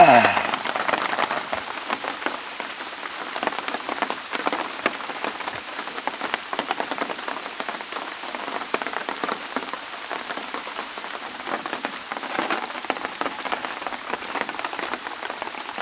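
Heavy rain pours steadily over a forest campsite at Deogyudae in a national park, a dense, even hiss of drops striking surfaces close by, continuing unbroken with no talk.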